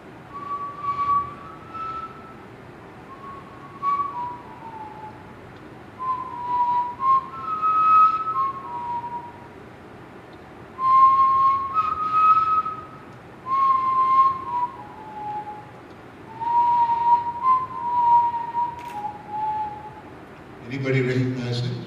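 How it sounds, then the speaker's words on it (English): A single person whistles the Going Home theme from Dvorak's New World Symphony in a lecture setting, slow phrases separated by brief pauses, clear and fairly close over a low room hum. "It's the going home theme from Dvorak, Ninth Symphony, New World Symphony."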